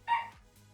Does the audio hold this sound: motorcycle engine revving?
no